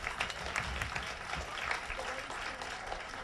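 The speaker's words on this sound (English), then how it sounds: "A big round of applause for everyone for coming." At a guide dogs walk-a-thon, an outdoor crowd gives a faint, scattered round of applause, uneven claps mixed with background chatter and low rumble.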